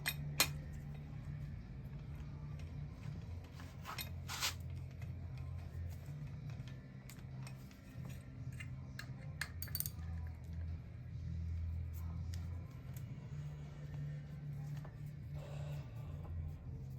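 A ratchet tightens a part on an aluminium LS1 engine, producing faint, scattered metallic clicks and clinks against a quiet background hum, with no voices.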